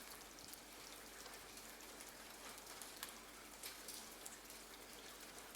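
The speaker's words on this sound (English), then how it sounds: "the quiet, persistent dripping of the rain" Steady rain patters and drips onto wet forest leaves, a soft continuous hiss with scattered sharper drops and no voices.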